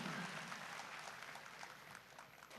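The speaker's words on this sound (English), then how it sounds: "Let's all give a big round of applause to La Xiaohon Chanpi Violin." Audience applause at a talent show awards gathering, a steady wash of many hands clapping throughout, fairly faint and distant.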